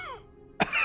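A single short, sharp cough bursts out near the end of a brief cough medicine advert, following a quiet fading tone.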